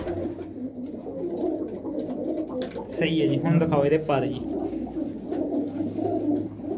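A pigeon coos in a soft, rolling burst midway through, against a background of other pigeons. Someone talks before and after the call.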